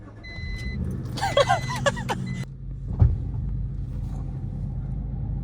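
A car engine runs with a rough, uneven low rumble throughout, while people talk briefly over it early on and a short knock sounds near the middle.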